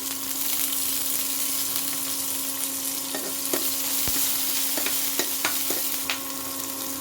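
Onion and spices frying in a kadhai for paneer give a steady, close sizzle, broken by a few sharp clicks and scrapes of stirring.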